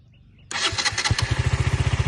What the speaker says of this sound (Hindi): ये अभी मैंने बाइक चालू कर दी है और ये इसकी साउंड है इसकी